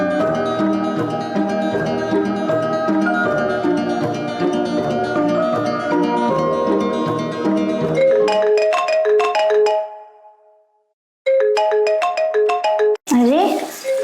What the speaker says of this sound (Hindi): तो फिर ये कॉल किसका आ रहा है?